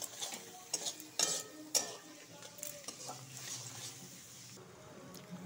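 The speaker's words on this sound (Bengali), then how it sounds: "পেঁয়াজটা ভাজা ভাজা হয়ে গেছে" Onions and garlic paste frying in a pan, a faint sizzle under repeated scraping stirs and clinks of a spatula against the pan.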